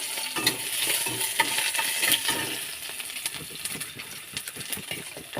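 Crushed garlic dropped into a hot pan with oil and dried chilies, frying alongside jackfruit seeds and green chilies, crackling and sizzling steadily with scattered spatter pops and stirring scrapes, close and fairly loud, no talk.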